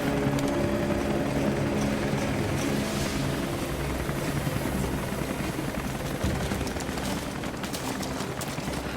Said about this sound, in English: That was Constantine's chopper.